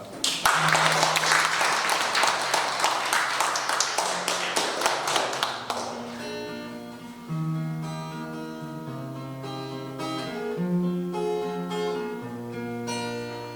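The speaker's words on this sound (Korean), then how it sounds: "여러분들이 여러 같은 박수가 필요합니다" An audience at a cultural lecture claps in a steady, rapid rhythm for several seconds. The clapping then thins out as a song with sustained keyboard tones begins and carries on alone.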